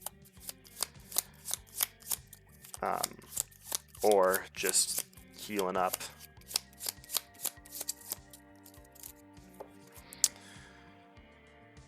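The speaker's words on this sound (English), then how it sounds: "Shuffle everything up." A deck of game cards for a Hawkeye card game is shuffled in a quick run of sharp riffling bursts, with someone talking briefly in the middle.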